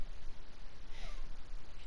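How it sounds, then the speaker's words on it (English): A pet cat meows once indoors, a drawn-out close cry over steady room hiss with no one speaking. "and he meowed at me"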